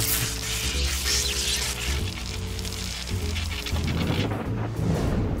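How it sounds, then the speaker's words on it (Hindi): Cartoon thunderstorm effect: rolling thunder rumbles over steady hissing rain, loud and continuous, with low booming swells shifting and then giving way to crackly rain-like sizzle. "ये तो तूफान है।"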